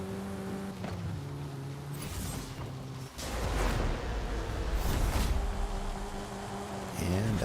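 Camaro engine in the video game Forza Horizon 5 roars and shifts pitch as it accelerates, with a surging, rough low drone and gear-change dips throughout.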